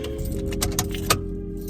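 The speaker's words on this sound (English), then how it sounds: "Turn my car off for this real quick." A car engine idles with a steady low hum and then cuts off, while a set of keys jangles in several quick metallic bursts close by. No one speaks.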